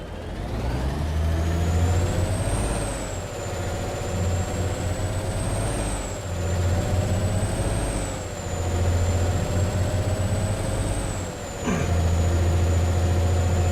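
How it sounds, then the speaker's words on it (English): A heavy truck in the Alaskan Truck Simulator game, handbrake released with an air-brake hiss, then a loud, steady diesel engine drone that rises and falls through several gear changes, close and continuous without talk. "Handbrake off."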